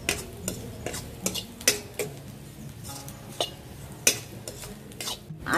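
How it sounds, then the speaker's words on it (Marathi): Onion and coconut dry-roast in a pan, with repeated sharp scrapes and clinks from a stirring spoon over a faint sizzle, the strokes coming at an irregular rhythm. "आता हे 1/2 वाटी खोबरं आहे ते आतमध्ये टाकते आणि भाजते।"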